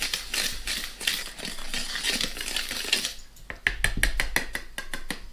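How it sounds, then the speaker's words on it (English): Dry cake ingredients are stirred in a bowl, first as a steady scraping swish, then as a quick run of light clinks and taps from the utensil striking the bowl's sides. "mix all your dry ingredients together"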